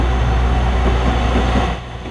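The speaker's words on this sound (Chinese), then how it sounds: "火车缓缓驶入车站，" A train slowly pulling into Dounan railway station, a Japanese-era brick station in Taiwan, gives a steady low rumble of rolling rail wagons that holds close and loud before easing off slightly near the end.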